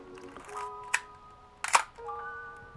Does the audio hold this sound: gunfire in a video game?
no